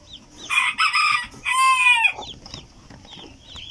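A US Silkie hen with her chicks in a backyard gives a few loud, harsh squawking calls in quick succession, followed by faint, scattered high peeps.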